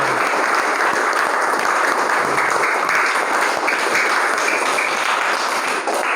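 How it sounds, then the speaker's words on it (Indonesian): Students in a school classroom clap together in a long, loud, steady burst of applause that holds evenly from start to finish without speech. "Tepuk tangan untuk kita semua."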